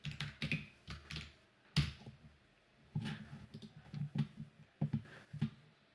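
Keys on a computer keyboard tap in quick, irregular bursts with short pauses, close and fairly quiet, with no talking.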